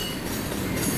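A train carrying an old-fashioned C&O boxcar rolls past close by on the Western Maryland line, a steady loud rumble of wagons and clacking wheels with no voices.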